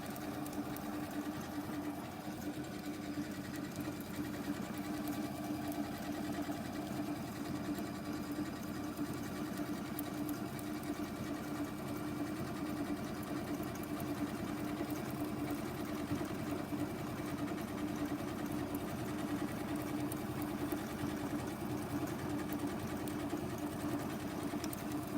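A sewing machine stitches a table mat in a steady, continuous run, its even mechanical whir holding at the same moderate level throughout with no talk over it.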